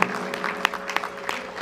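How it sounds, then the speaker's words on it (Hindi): An audience at a Ramcharitmanas discourse claps in a brief, uneven burst, a handful of distinct slaps standing out over a soft wash of scattered hand claps. "ताली बजाओ तो ठीक से बजाओ।"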